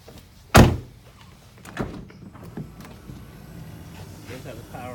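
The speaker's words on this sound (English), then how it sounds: "have the power sliding side doors" Power sliding side door on a 2017 Dodge Caravan minivan: a sharp loud thud as the door latches, then a quieter motor whir and mechanical rumble, with a voice talking faintly over it.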